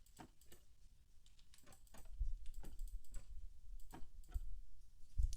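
Soft wooden clicks and knocks repeat in irregular pairs over a low rumble, a Minecraft trapdoor flipping open and shut again and again, fairly quiet.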